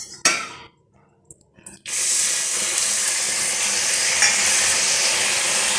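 Water poured into a pan of melted sugar caramel sets off a sudden loud, steady hiss and sputter that carries on after a few quick sharp crackles, close and with no talking.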